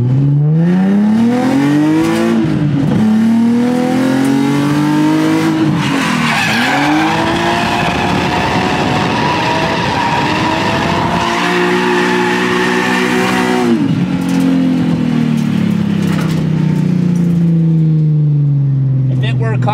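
A drift car's engine revs hard and loud, rising and falling in repeated sweeping pulls with tire squeal and skidding mixed in, heard close from inside the car.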